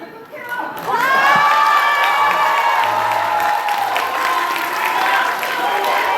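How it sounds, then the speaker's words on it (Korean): An audience at a campaign lecture claps and cheers loudly, whoops and shouts rising over steady clapping that holds strong throughout, with a voice or two calling out above the crowd. "4번 박수 칠 준비하십시오."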